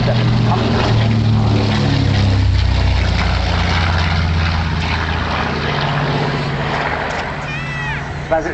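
A twin-engine propeller bomber with pilot, navigator, bombardier and turret flies past at the Dunsfold Wings and Wheels air show in 2009. Its steady, loud engine drone carries throughout beneath an announcer's commentary.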